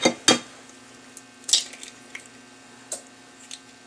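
An egg is cracked and dropped into a single bowl of pumpkin muffin batter, giving two sharp taps near the start, then a few softer clicks and wet plops over a faint steady hum, with no talk.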